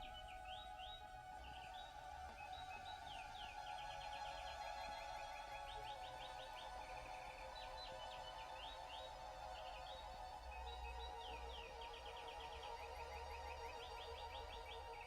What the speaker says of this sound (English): the composer even used in the score a recording of a live nightingale